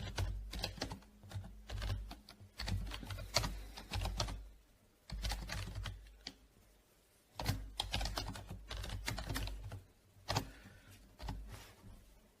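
Computer keyboard keys clatter in fast bursts of typing while code is written, the rapid clicks close and steady with short pauses between runs, no voices present.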